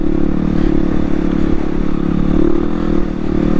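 A 2016 Yamaha WR250R dual-sport motorcycle on Tusk dual-sport tires riding through loose sand, a loud, constant engine drone mixed with rushing wind and gritty clatter, steady throughout.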